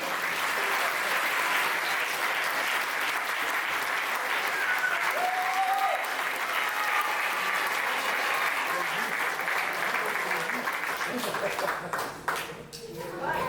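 A crowd applauds a female boxer with a 16-0 record at a boxing event, sustained dense clapping for over ten seconds with faint voices underneath, thinning out near the end.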